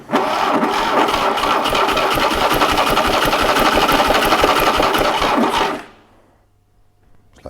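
A 1968 Fiat 500 engine runs with a fast, rattly, even putter, loud and close, for several seconds before it cuts out abruptly and falls to near silence.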